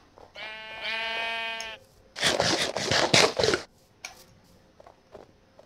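A sheep in Minecraft bleats once in a long wavering cry, followed by a burst of crunchy, rapid game sounds; faint clicks trail off at the end with no talk over them.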